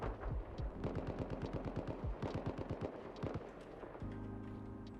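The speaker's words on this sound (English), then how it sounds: "I don't know why I'm shooting at a wall." Rapid automatic gunfire in a video game, a long rhythmic string of close, sharp shots fired at a wall, slowing toward the end and giving way to a steady low hum.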